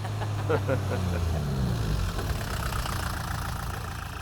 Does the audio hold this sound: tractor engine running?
yes